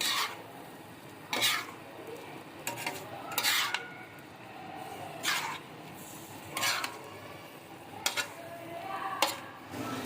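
Steady sizzling of beef liver frying with garlic, ginger and green chilies on a tawa, broken by repeated scraping and stirring strokes of a utensil against metal at uneven intervals.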